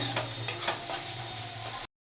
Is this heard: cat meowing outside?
no